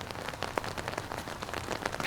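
Steady rain patters on surfaces during the final round of a disc golf tournament, a dense, even wash of close droplets with no voices.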